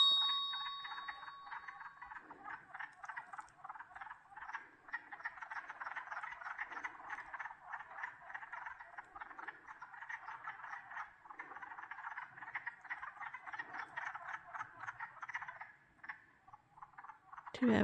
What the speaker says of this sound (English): but they're frogs